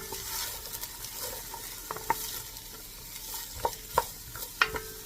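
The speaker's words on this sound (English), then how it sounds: "I'm gonna give that a good stir" A spoon clinks and scrapes against a pot as chicken and mushroom soup is stirred over a soft simmering sizzle, with a few sharp knocks near the end.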